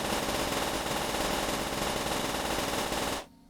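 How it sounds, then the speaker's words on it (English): PPSh submachine gun emptying a full magazine in Black Ops 3 Zombies, a loud, rapid unbroken stream of shots for about three seconds that cuts off abruptly. "I can't get over how nice the PPSH feels in this game. Like, the fire rate is so good."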